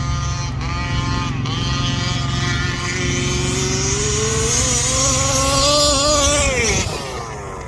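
A Rovan Baja 5B gas RC car with a 36cc engine screams at full throttle, its buzzing two-stroke whine climbing steadily in pitch and then cutting off sharply near the end, loud and close throughout.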